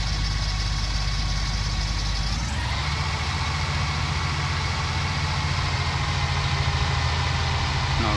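A tractor idles in Farming Simulator 19 with a steady, low diesel rumble that runs unbroken and close throughout. The tone shifts slightly partway through, and no one speaks.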